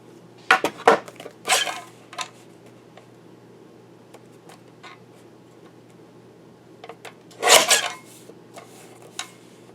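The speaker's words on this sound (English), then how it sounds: "So I'm going to go ahead and trim this down." Card paper trimmed on a paper cutter for a handmade Valentine card, giving a few short sharp slicing and clicking bursts separated by quiet pauses, close and distinct.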